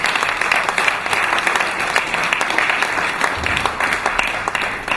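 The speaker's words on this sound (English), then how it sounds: "Ladies and gentlemen, please a big round of applause for His Excellency General Yakubu Gowon" A big round of applause for General Yakubu Gowon at a London event, sustained crowd clapping with sharp individual claps popping out of a dense, fairly loud wash that runs throughout.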